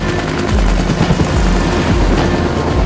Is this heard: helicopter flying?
yes